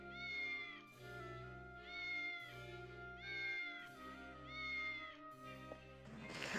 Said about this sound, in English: the cat that they have meowing, the sound for it is an actual cat